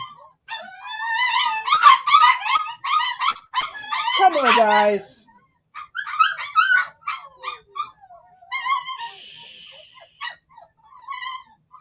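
Puppies whine, yip and bark in a busy, overlapping chorus, with a falling howl-like whimper; a person speaks briefly amid the noise.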